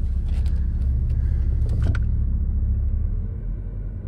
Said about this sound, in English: I'm gonna let this thing idle for a little while out here and see